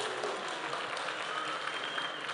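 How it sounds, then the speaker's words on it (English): Graduation guests at the Kenya Institute of Development Studies applaud a graduate from Comoros Island, a steady, dense wash of many hands clapping heard from a distance at low to moderate volume. "Let's applaud Abdul Kafo all the way from Comoros Island."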